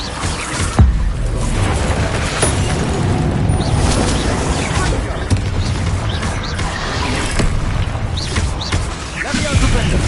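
Bombarda spell explosions in the Hogwarts Legacy wizard combat game, loud dense booms and crashes piling up continuously through the battle, with voices shouting over the noise.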